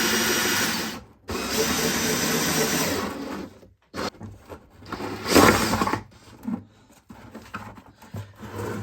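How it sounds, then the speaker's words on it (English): A power drill bores a hole for a honey gate, whirring steadily in bursts, cutting out briefly with short pauses, then spinning up again in shorter runs near the listener. "So I was able to get a hole finally with the drill bit"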